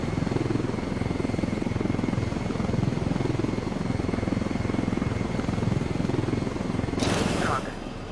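Helicopter rotor and engine drone in the video game Ghost Recon Wildlands, steady and loud throughout, with a short hiss near the end as the sound drops slightly.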